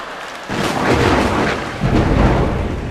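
Thunder rolling during a storm, a sudden loud rumble that swells, eases and swells again in long low waves, with no voices over it.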